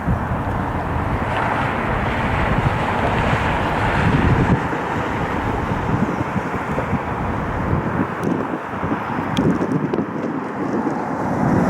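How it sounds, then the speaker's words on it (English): Strong wind at Cleveland Hopkins Airport roars steadily into the microphone in the evening, a dense, continuous buffeting rush with no let-up, loud and close throughout. "The wind has really picked up."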